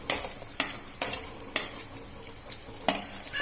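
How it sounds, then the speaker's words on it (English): Garlic, ginger, small onions and curry leaves fry in a pan for a Kerala-style prawn roast, giving a soft sizzle broken by sharp, regular scraping stirs about every half second. "Now this has to be fried for some time."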